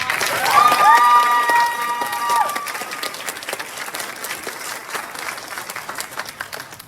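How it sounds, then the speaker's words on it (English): A theater audience gives the cast of a stage show a warm round of applause, dense clapping with a few shouts and cheers near the start, gradually thinning out toward the end. "I think our cast deserves one more round of applause."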